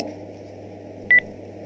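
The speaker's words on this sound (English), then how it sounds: "Oh, I have a phone call." A short double electronic telephone tone, two quick bright pulses in a row, rings out clearly over a steady low background hum with no talking.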